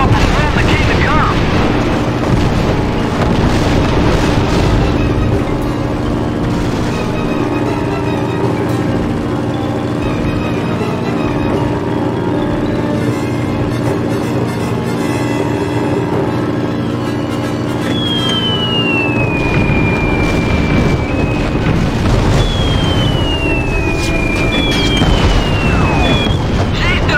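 Explosions roar through the WWII aerial combat game Secret Weapons Over Normandy during its Midway naval mission, where a burning ship hulk blows apart. The blasts form a dense, loud, continuous rumble, with voices talking over it.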